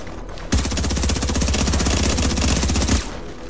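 Sustained automatic gunfire from a firearm in a video game rattles out as one unbroken, loud rapid-fire burst lasting about two and a half seconds, with no talk over it.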